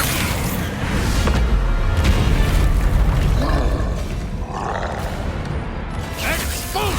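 Bombarda spell explosions in the video game Hogwarts Legacy, heavy booms and rumbling blasts layered with crackling debris and magical effects, loud and continuous throughout, with a voice speaking over the action.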